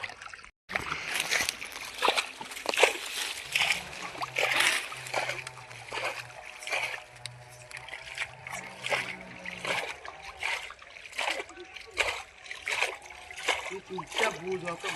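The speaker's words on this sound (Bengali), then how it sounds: "জলটা ছিঁচে নেবো।" Water splashing and sloshing as it is scooped out of a small fishing boat, repeated irregular splashes alongside people talking nearby.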